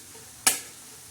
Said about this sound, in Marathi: साधी सोपी तव्यावरची अशी झणझणीत आणि चमचमीत अशी खायला टेस्टी अशी आपली रान तांदूळाची भाजी आपली तयार होत आहे.